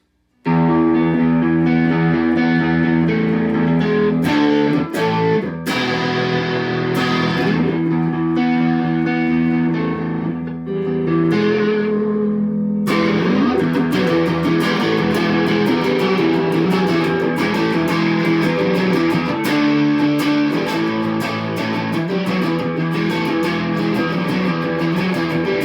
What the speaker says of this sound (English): Let's put a little distortion on this thing and see what we can get to sound like